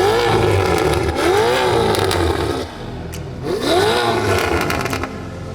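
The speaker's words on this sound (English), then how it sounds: "give you guys a couple of revs so you can let us know what you think about the V8 twin turbo with the combination of the Capristo mufflers" Audi RSQ8 twin-turbo V8 fitted with Capristo mufflers, IPE pipes and an X-pipe, revved twice in loud, close bursts that climb and fall back to a deep idle, with no talk.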